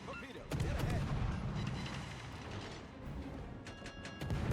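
Warship guns fire in a naval video game: a heavy booming salvo hits near the start, a dense rumbling barrage rolls on, and fresh sharp blasts land near the end.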